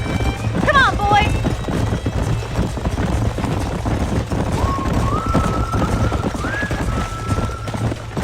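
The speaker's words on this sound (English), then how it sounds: "These are fine horses." Horse hooves clip-clopping and a whinny in the Western video game Red Dead Redemption, with a sharp neigh early on, steady hoofbeats under ambient background, and a sustained tonal sound later in the clip.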